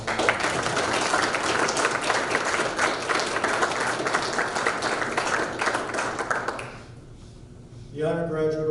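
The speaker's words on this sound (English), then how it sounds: "Can we have a round of applause for the nominees?" An audience at a detention officer academy graduation ceremony applauds the nominees, loud sustained clapping from many people that fades out near the end, followed by a speaker's voice.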